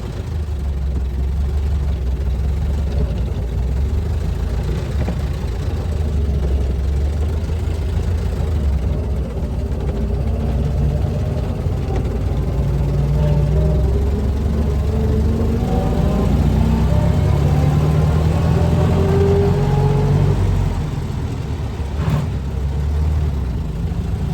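A 1920 Garford truck engine runs steadily for the whole stretch, a loud, deep, continuous drone with some rise and fall in pitch as it works under load while driving.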